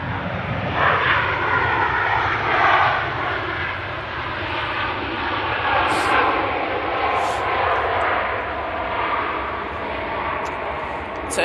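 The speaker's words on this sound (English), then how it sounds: "Decent touchdown there from the Ryanair." A Ryanair passenger jet touching down at Manchester Airport, a sustained broadband engine roar rising and falling with reverse thrust, loud and fairly near, with no talking over it.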